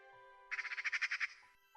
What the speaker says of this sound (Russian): Иногда на кормушке заглядывает поползень.